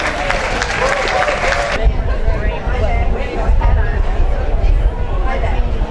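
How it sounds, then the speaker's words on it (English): Spectators at The Villages Polo Club clap briefly, the applause fading within about two seconds into a murmuring crowd and open-air background noise, with voices talking over it. "Big round of applause, everybody."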